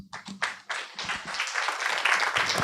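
Applause at a blockchain business conference: a few scattered claps that quickly swell into fuller, steady clapping from the audience, moderately loud.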